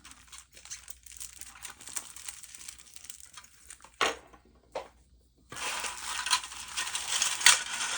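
Crinkling and rustling of a plastic bag holding parts for a Monogram 1979 Ford Mustang Cobra model car kit, close and fairly loud, with scattered crunches and a brief pause before a denser burst of crumpling.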